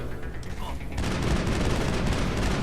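The Tsunami assault rifle in Mass Effect fires a rapid, dense burst of automatic shots that begins after a brief quieter moment and continues loudly to the end, with speech mixed underneath.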